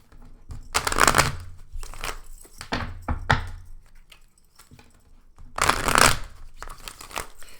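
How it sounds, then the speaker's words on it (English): A tarot card deck is shuffled by hand in quiet indoor surroundings. Short riffling bursts come in two clusters with pauses between them, close and fairly soft. "I like to just shuffle the cards briefly, open up the energy on the deck."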